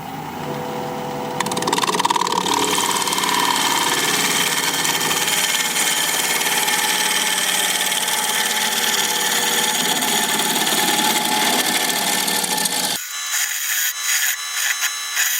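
A wood turning tool being sharpened on a grinder, a steady broadband grinding rasp that runs continuously for about twelve seconds before cutting out into quieter shop noise.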